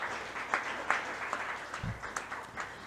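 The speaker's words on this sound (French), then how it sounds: "Donc, on peut les applaudir." Audience applause for volunteers at an evening event, a moderately faint, steady wash of clapping from a crowd in a room.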